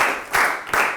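A lecture audience trying to clap in unison, heard as two loud, fairly synchronized crowd claps about 0.4 seconds apart, with a sizable crowd's claps merging into each beat.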